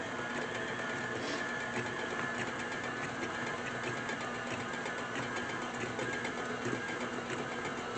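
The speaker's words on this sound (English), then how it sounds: "So I'm going to keep mixing." Soap batter being mixed for bubble scoops, likely with a stick blender or mixer, giving a steady, continuous motor whir that stays even and close throughout with no talking.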